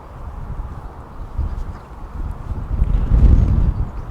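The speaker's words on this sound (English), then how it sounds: "Wind's just whipping around this little corner." Gusty wind whips around a corner of a golf course, rumbling against the microphone and swelling louder toward the end, with no talking.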